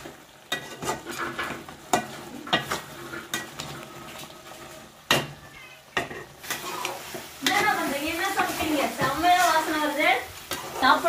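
Quail gravy simmers and bubbles in a pan while a spoon scrapes and stirs it, with intermittent clinks of utensil on metal and a steady sizzle that grows busier and louder toward the end.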